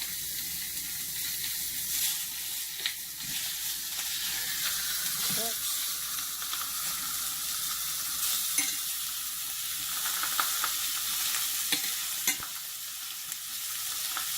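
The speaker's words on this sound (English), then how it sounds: "We're going to put them in this pan with a little bit of olive oil in it" Onions sizzle in a pan with a little olive oil as a continuous close hiss, marked by scattered pops and occasional stirring clatter, with no speech over it.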